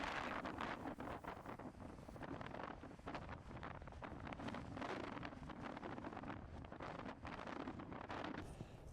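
Steady, loud wind buffets the microphone in continuous gusts, roaring and rumbling throughout with no pause.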